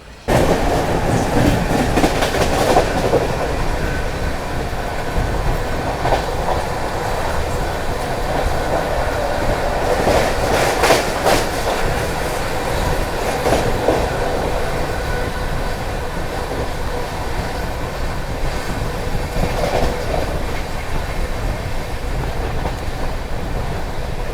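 Onboard the 12226 Delhi–Azamgarh Kaifiyat Express sleeper-class passenger train near Ghaziabad Junction at night: a steady, loud rolling rumble of wheels on rails with rhythmic clatter, continuous throughout, no voices.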